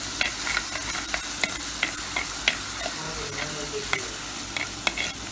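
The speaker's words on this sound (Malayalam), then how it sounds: "നമ്മൾ ഇളക്കുവാണ് ഇപ്പം" Crushed ginger and garlic sizzle as they fry and are stirred in a pan, a soft steady frying hiss broken by small irregular clicks and scrapes of the spoon against the pan.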